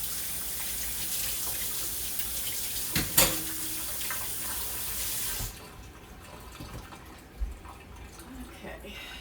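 Hands are washed under a running kitchen tap while banana nut bread is being made, a steady close splashing rush of water with a few louder splashes before the flow cuts off and leaves faint drips.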